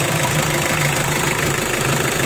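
A 2001 Mitsubishi Kuda diesel engine idles loudly and close up, a steady, even rumble with a continuous mechanical clatter and no voices.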